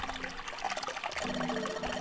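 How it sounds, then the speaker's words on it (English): Water runs steadily from a faucet in the game Zero Escape 999, a continuous close pouring trickle that grows fuller partway through, with no talk over it. "Hey, water's filling up."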